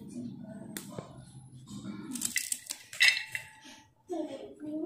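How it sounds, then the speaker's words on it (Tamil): A knife chops amaranth stems finely, making scattered sharp taps and clinks of blade on board, irregular and close, with a voice heard in places between them. "இந்த மாதிரி பொடிசாக கட் பண்ணிக்கோங்க."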